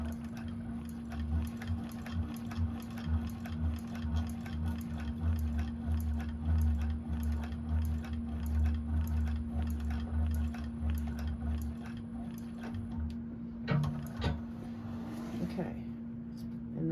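A 1341 cylinder arm sewing machine stitches down a bag pocket in a fast, steady mechanical chatter under a constant motor hum, stopping near the end with a few clicks while a person talks over it.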